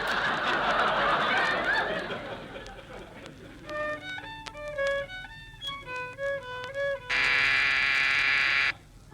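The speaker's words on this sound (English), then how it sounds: "That was the door buzzer." Snickering and chuckling give way to a plucked melodic run, then a loud, steady electric door buzzer sounds for about two seconds before cutting off.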